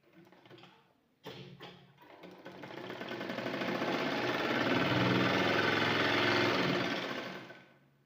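A sewing machine stitches a hem on cloth after sitting unused for many days, with a short burst first, then a steady whirring run that rises and holds close and loud before stopping.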